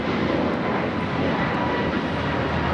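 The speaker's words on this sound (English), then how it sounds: "That was American Airlines 2850 taking off to Philadelphia on the A321neo" An American Airlines Airbus A321neo takes off at Los Angeles airport, its jet engines a steady, loud, continuous roar with no talk over it.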